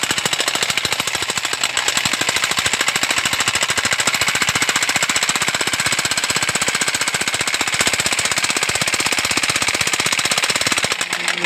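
A drilling machine in a coal mine hammers loudly and continuously at close range, a dense rapid rattling pound that never lets up.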